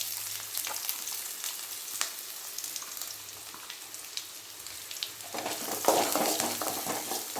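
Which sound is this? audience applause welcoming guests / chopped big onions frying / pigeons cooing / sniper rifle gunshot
chopped big onions frying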